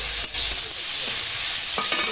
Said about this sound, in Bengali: পটলটা দিয়ে দিয়েছি, পটলটা দিয়ে কষাবো।